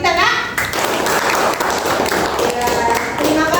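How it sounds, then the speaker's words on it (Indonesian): Schoolchildren in a junior high classroom clap together for a fellow student group, a dense, steady patter of many hands filling the room, with voices mixed in underneath. "Coba dulu kita beri aplaus tepuk tangan untuk kawan kita Nak."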